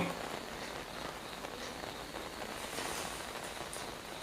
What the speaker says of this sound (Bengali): কলকাতায় যা বৃষ্টি হচ্ছে